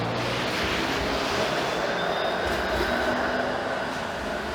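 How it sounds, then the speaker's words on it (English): A 506 Carlton streetcar passes on College Street in Toronto with a loud, continuous rumbling roar and a faint high wheel squeal, filling the whole stretch with no voices. "There's a 506 Carlton streetcar."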